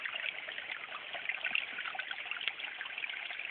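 River water trickles and bubbles along a bank of a gold-prospecting spot in Ohio, a continuous close babbling with small irregular splashes and no talking.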